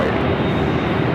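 The roar of a Lufthansa Boeing 747-8 Intercontinental bound for Frankfurt as it takes off at LAX, a loud, dense, continuous engine rumble with a voice faintly beneath.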